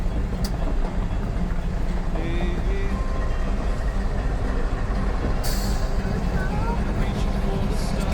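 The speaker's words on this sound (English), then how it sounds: "Barrett and I just checking out some train action over here." A train rolls past with a continuous low rumble and rattle of rail cars, a faint squeal of wheels or brakes and a sharp hiss of air partway through, while voices murmur faintly underneath.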